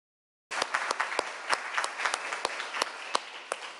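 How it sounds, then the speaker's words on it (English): An audience at a participatory budgeting event in the Portland metro region applauds two speakers, bursting in after a short silence into moderately close clapping with distinct sharp individual claps standing out through the steady patter. "Can we have another applause for Becky and Jess?"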